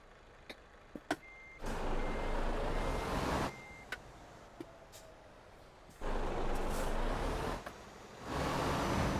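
An Iveco truck in a truck-driving video game reverses, sounding a repeated loud reversing beep in long regular pulses over a low engine rumble, with brief clicks in between.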